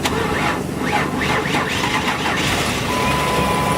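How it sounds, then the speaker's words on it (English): A van being jump started cranks with a rapid, rhythmic churn that catches into a loud, steady running engine hum, heard up close. "we're going to start the engine in my van"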